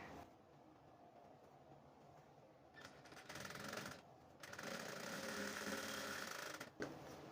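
A sewing machine stitches a blouse in a steady mechanical whir that speeds up and slows down, with a brief pause midway and a click near the end. It is close and moderately loud, and no one speaks.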